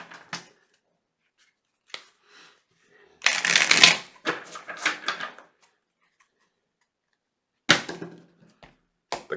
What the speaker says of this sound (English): the last two shuffles felt very light and airy